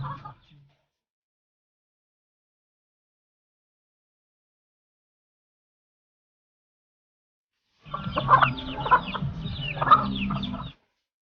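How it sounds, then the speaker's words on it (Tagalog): Two mother hens with many chicks clucking on a countryside farm, a short burst of clucks and peeps near the end after a long silence, close by. "Ayan, marami siyang sisiw. Dalawang inahin."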